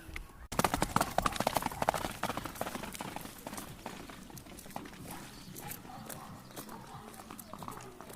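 Horse hooves clip-clop on a rural path, a quick run of sharp, fairly close clops that continues more softly amid outdoor background noise and faint voices.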